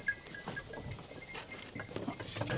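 Young sheep of mixed black-headed and white-headed breeds let out of their pen, heard as a continuous busy farmyard bustle with faint bleats, shuffling and scattered clatter, no talk.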